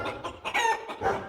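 A pet chicken clucking up close in a quick, busy run of throaty, rising squawks and clucks, loud and alone with no speech.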